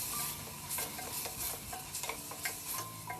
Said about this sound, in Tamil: ஒரு தடவை வதக்கிக்கோங்க.